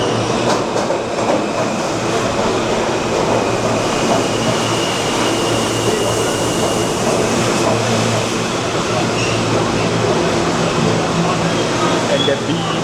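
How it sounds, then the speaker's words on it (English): A New York subway M train at the Bryant Park station platform, a loud continuous rumble and rolling rail noise with steady clatter throughout, with someone talking over it. "There's another subway heading. I think that's the M subway, which is heading onto this platform."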